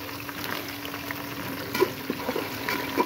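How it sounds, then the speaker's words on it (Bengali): Whole cinnamon, green and black cardamom, and cloves dropped into hot oil for a broiler chicken bhuna give a soft, steady sizzle and crackle, with a few brief louder pops near the end. "দারচিনি, এলাচ, লবঙ্গ, বড় এলাচ সম্পূর্ণ ধুয়ে পরিষ্কার করে তেলের ভিতরে ছেড়ে দিলাম"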